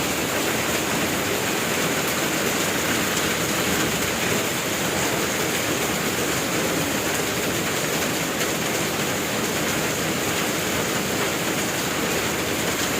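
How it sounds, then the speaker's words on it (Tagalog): A constant, roaring downpour fills the scene, thick broadband hiss of heavy rain continuing unbroken throughout, with nobody speaking. "Nakulong ako sa ulan guys."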